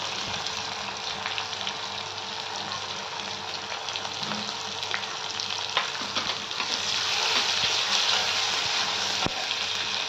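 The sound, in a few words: ginger-garlic paste and turmeric sizzling in hot oil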